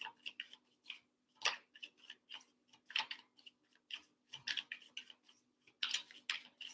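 Quick papery riffling bursts of tarot cards being shuffled, close and fairly quiet, coming in irregular short flurries with brief pauses between.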